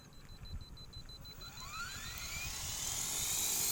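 A Tarot 450 DFC RC helicopter spins up, its rotor whine rising steadily in pitch and getting louder over a few seconds, with faint outdoor background noise.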